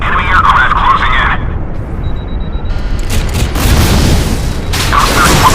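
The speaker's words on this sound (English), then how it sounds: "The missile is away." Missile launch and impact in the naval combat game Modern Warships, a loud continuous rumbling roar with booming blasts, layered with game effects and a siren-like tone, dense and unbroken.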